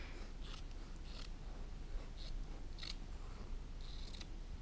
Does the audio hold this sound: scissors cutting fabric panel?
yes